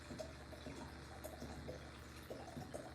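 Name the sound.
pouring wine into a glass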